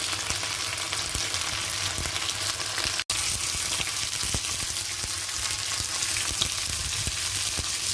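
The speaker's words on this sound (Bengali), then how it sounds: "এবার চিকেনগুলো এখানে ফ্রাই করছি, সাদা তেল দিয়ে একটু ফ্রাই করে নিচ্ছি।" Chicken pieces fry in white oil in a pan, giving a constant close sizzle and crackle with a few sharper pops, uninterrupted apart from one brief cut.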